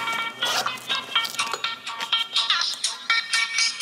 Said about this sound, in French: Décrocher un téléphone en plein entretien d'embauche